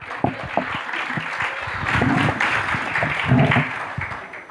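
Audience applause at a negotiation seminar on the Harvard method, close and moderately loud, building for a few seconds with scattered sharp claps, low voices murmuring underneath.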